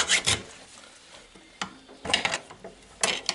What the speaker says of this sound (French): je mets un léger petit coup de lime sur le carré là